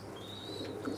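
Pigeons coo softly in a loft, a faint low murmur under a steady hum with a thin high whistle passing through.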